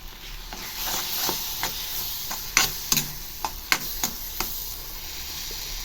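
Banana pieces sauté in ghee for banana bonda, a soft hiss under a series of crisp ticks and light stirring knocks, close and fairly quiet.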